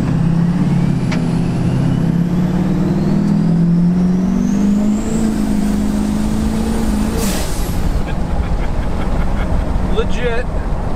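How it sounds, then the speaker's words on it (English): A compound-turbo Duramax diesel truck roars loudly and continuously as it accelerates hard with its wheels spinning at speed, heard from close by with a steady drone throughout. "Legit, we were just spinning wheels at 50 miles an hour."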